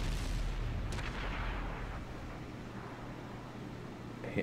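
Gunfire in a King of the Hill 2v2 tournament match from a video game, with sharp shot bursts near the start and a rumbling, booming tail that fades over a few seconds.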